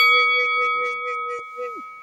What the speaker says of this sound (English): hit that notification bell after you do all that